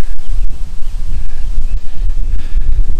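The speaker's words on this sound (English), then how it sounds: "Been windy here almost the whole time I've been here." Wind buffets the microphone outdoors at an RV park, a steady low rumbling roar with gusty swells throughout, no voices.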